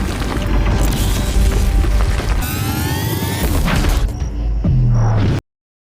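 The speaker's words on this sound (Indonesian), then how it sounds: "Ledakan energi yang baru saja terjadi" A sci-fi energy explosion effect from an underground portal powered by electric current, a dense roaring blast with sweeping whooshes and crackling, ending in a deep swelling boom before cutting to silence.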